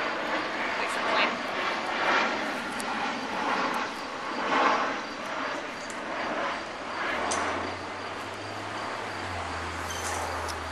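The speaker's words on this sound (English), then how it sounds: "Wait for the plane." A fixed-wing airplane drones steadily overhead during an outdoor urban garden event, a broad continuous rumble filling the scene, while people talk nearby and insects chirp faintly in the background.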